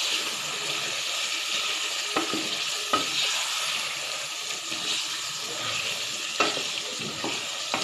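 Spices and lemon juice fry together in a pan for chicken biryani, a dense, steady sizzle with occasional clinks of a stirring spoon close by.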